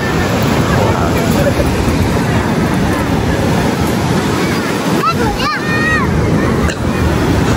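Sea waves wash continuously onto the beach at Ganpatipule, a loud, steady roar of surf with wind buffeting the microphone, and a few faint voices and whistles rise briefly near the end.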